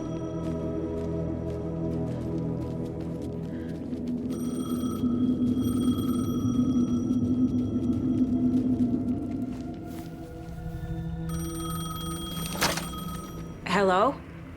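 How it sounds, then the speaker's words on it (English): A payphone rings in the video game Alan Wake, repeated electronic ring tones sounding over a continuous low rumbling game backdrop with music, ending in a brief louder burst. "The payphone was ringing."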